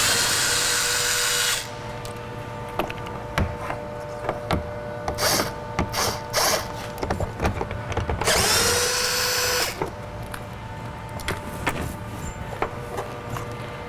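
A power tool removes two 10mm bolts from the front door panel of a 2007-2014 Chevrolet Suburban, whirring in loud bursts separated by clicks and rattles of parts being handled.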